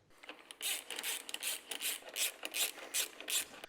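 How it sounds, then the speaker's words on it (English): A ratchet loosens the caliper bolts on a 2012 Harley Davidson Street Glide's brake, a quick series of bursty clicking strokes repeated close by, about a dozen pulls in a steady rhythm. "remove these two bolts right here"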